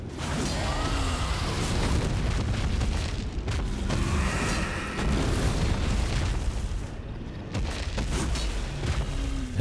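Magma guillotine eruption attack in Elden Ring, heavy booming blasts and rumbling fiery bursts layered over loud battle noise, continuous and dense with a few sharper impacts.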